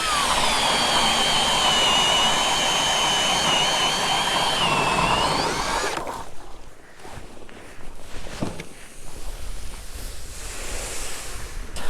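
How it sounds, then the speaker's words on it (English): A powered ice auger drills a fishing hole on a frozen lake, whining loudly and continuously for about six seconds, then stops, leaving wind and scattered handling noises. "Just gonna drill around here."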